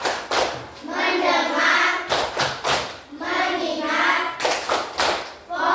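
Classroom children playing a rhythmic concentration clapping game: loud group claps in sharp bursts alternate with the kids chanting words together in unison, repeating in a steady pattern.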